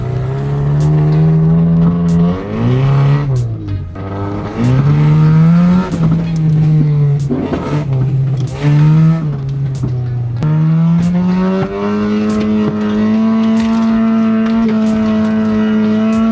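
A car engine running on peanut oil idles and revs loudly up close, its pitch rising and falling through several throttle blips before settling into a steady, rough drone.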